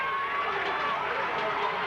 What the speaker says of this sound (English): The enthusiasm of the crowd here is just tremendous.